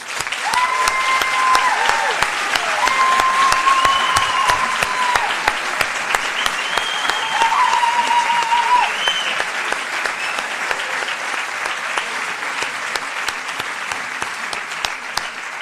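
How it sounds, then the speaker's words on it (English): A graduating class of 2019 gets sustained applause from a large audience, many hands clapping densely and evenly for about fifteen seconds, with faint voices and some murmuring underneath. "you deserve a big round of applause"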